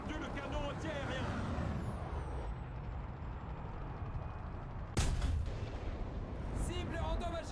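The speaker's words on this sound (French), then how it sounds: "Tir d'artillerie! Coordonnées! Delta 4, détruisez-le!" Heavy artillery guns boom in a war video game, with a sharp loud blast midway and rumbling battle noise throughout, under radio-style voices calling out orders.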